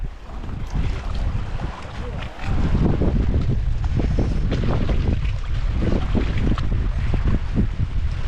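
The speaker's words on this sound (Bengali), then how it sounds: "নৌকায় উঠে কথা বলছি এই প্রথম দেখলাম সুন্দরবন এসে ঝড়" Strong storm wind gusting across a small boat crossing from the Chandpata ferry ghat toward Patharpratima in the Sundarbans, a steady roar of wind buffeting with water noise, loud and close throughout.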